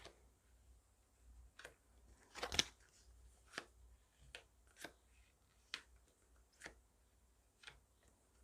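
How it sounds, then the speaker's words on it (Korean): Tarot cards are spread out on a table, producing a series of soft, separate card flicks and slides about once a second, with one louder shuffle near the start, close and quiet with no talking. "카드 펼쳐보겠습니다."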